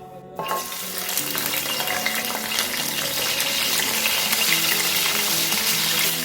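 Crushed garlic, curry leaves and dried chillies fry in hot oil with a steady, loud sizzle and crackle that holds from start to finish.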